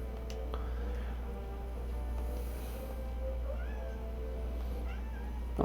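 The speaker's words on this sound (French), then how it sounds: "On a un chat qui fait des siennes." A cat meows twice in rising calls within a Dragon Quest XI game scene, set against a steady low hum and quiet background.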